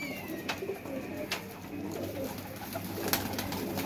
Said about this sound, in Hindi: ये देखें जी ये कबूतर है जी